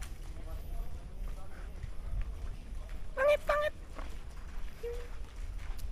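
A bird at Baluarte zoo in Ilocos gives a brief cluster of loud, harmonic gobbling calls midway, heard over steady background murmur and crowd noise, with a faint short call following a moment later.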